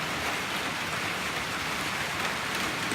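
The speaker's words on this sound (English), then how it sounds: "And you can hear the rain." Steady rain falling on a cloudy, rainy day, a dense, even hiss of drops on surfaces that holds at a constant level, with no voices.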